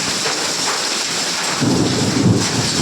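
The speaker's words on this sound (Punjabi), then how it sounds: "ਹਨੇਰੀ ਵੀ ਬਿਜਲੀ ਵੀ ਬਹੁਤ ਕੜਕਦੀ ਆ" Steady heavy rain hisses throughout while a low rumble of thunder rolls in partway through, with strong wind and lightning, no voices.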